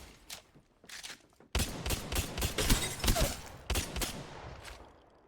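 Weapon fire in the battle royale shooter Apex Legends: a few short bursts at first, then a loud, rapid stream of close-range shots with brief gaps and no talking.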